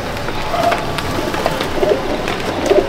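Madrasi (Chennai) pigeons coo softly at a loft, several short low calls spread across the clip over a steady background hiss.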